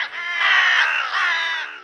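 Crows give two long, harsh caws one after the other, loud and close, with no other sounds around them.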